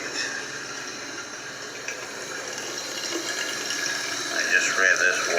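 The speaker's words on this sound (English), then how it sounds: "I just ran this water and the black stuff came out." Water running steadily from a tap into a sink in a leaking, dirty apartment bathroom, a continuous hissing flow heard close by, with faint voices in the background.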